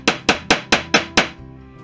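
A hammer tapping pins into pre-drilled holes in a wooden rib jig for a Fisher Youngster V kit plane, with six sharp, evenly spaced close taps in quick succession.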